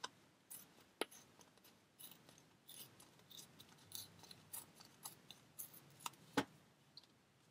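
Paper is ripped by hand in short, quiet bursts of crackly tearing, faint and intermittent with sharp little snaps and rustles between pauses.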